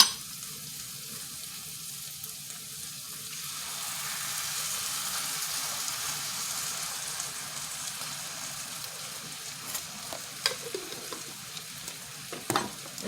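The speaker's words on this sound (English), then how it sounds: "I'm just gonna let them try to get as brown as possible all around it" Meatless meatballs browning in a frying pan give a steady, soft sizzle and crackle throughout, with a few sharper pops and spits near the end and no talking.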